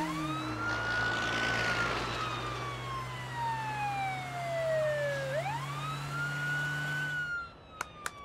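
An ambulance siren wails in a Malayalam-dubbed film scene, a long rising and falling tone sweeping down then back up over a low engine drone, ending with a couple of sharp clicks.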